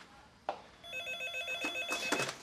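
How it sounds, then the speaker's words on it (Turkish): A telephone in a small restaurant kitchen rings with repeated electronic bell bursts, loud and close, with no talking over it. "Sessiz telefonlar yine başladı görüyor musun?"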